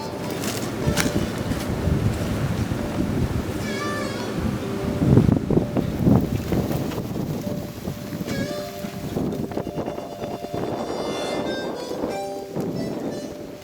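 Strong wind blowing across an open hilltop farm field, gusting and buffeting the microphone in loud rumbling bursts over faint background sounds.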